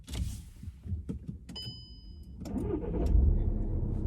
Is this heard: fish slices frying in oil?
no